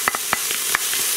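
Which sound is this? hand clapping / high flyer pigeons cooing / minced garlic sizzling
minced garlic sizzling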